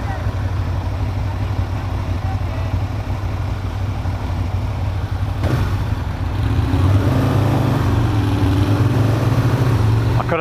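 Aprilia RSV Mille R motorcycle ridden through town in Sheffield, Yorkshire: a loud, steady engine drone with wind rush, rising in pitch midway as the bike speeds up.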